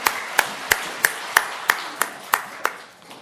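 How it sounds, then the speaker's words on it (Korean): Church congregation giving a round of glory applause, sounding as about ten sharp, evenly spaced unison claps that fade toward the end. "하나님께 영광의 박수를 보내겠습니다"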